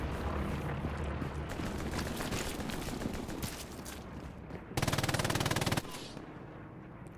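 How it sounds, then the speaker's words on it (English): Machine gun fire from an MG42 in the video game Hell Let Loose, during a competitive match in Carentan town center: a constant din of battle gunfire, then one loud, very rapid burst lasting about a second before fading back into distant shots. "with the MG42"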